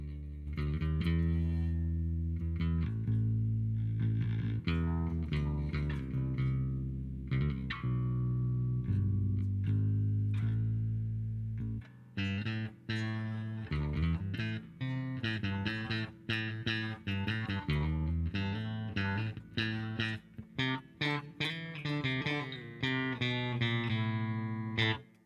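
A bass guitar from a Temu bass kit plays through its bridge pickup alone, sounding as a continuous run of sustained, slightly effected notes that give way to busier, faster phrases in the second half, loud and close with no talking.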